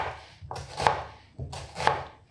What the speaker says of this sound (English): top and tail the onion, chop it in half. Get the skin off and slice it nice and thin